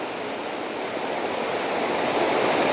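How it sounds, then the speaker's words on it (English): A loud waterfall near the Clarkson Covered Bridge in Alabama, heard up close as a steady, dense rush of falling water that swells slightly louder toward the end, with no voices. "this is as close as we want to get to the waterfall. And I'm sure you can hear all that and see how loud it is"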